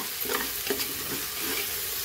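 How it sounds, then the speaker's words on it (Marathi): Spices with chilli powder, goda masala and turmeric sizzle softly in a pan for millet upma while a spoon stirs and scrapes in short strokes, quiet and close. "परतून घ्यायचे चांगलं."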